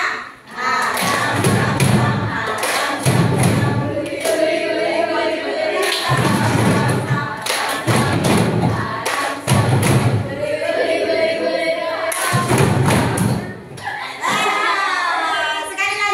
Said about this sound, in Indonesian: Ayo, tepuk mejanya, ayo.